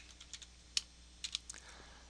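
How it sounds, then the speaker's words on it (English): Quick, light clicks of typing on a computer keyboard, a short irregular burst of close, faint keystrokes with no talking. "I'm going to type in left content"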